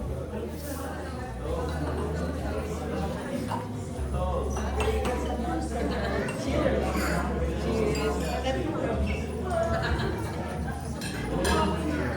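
Glasses clink together during a wedding toast for the bride and groom, with bright, scattered chinks rising over steady crowd chatter and voices in a busy reception hall.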